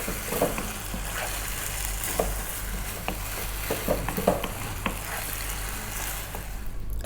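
Fusilli pasta with ham being stirred in a creamy sauce in a pan, a low continuous simmering sizzle with soft scraping clicks from the stirring, close and steady, with no voices.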